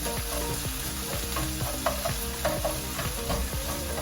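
Onions fry in avocado oil in a big skillet, giving a dense, steady sizzle with repeated scraping and stirring strokes. The sound is close and continuous, and nobody speaks.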